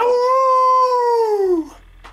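A voice imitates a Khorne hound from a Warhammer 40K tabletop battle, giving one loud, sustained howl that slowly falls in pitch over about two seconds before cutting off.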